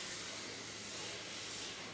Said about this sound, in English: You will notice that only a very light amount of steam is being used to hold the folds in